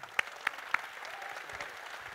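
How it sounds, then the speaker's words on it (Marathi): An audience claps for a group of student musicians who played tabla, dhangar dhol, large dhol and pakhawaj, with a few sharp near claps over a soft, steady spread of applause. "सगळ्यांसाठी जोरदार टाळ्या."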